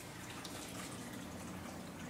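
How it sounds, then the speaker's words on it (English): Small waterfall stream trickling in a gray tree frog terrarium, a steady close splashing and running-water wash that fills the moment without a break, with no voices over it. "I really think the waterfall or the stream is pretty neat"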